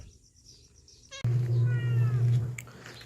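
A house cat gives one loud, drawn-out meow up close, breaking out of a quiet indoor background with a short sharp knock just before it.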